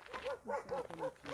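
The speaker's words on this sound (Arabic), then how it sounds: "وكنسمعوا الكلاب" Dogs bark outdoors on a hike up a mountain, a rapid string of short, rough barks and yips at moderate distance with no talk over them.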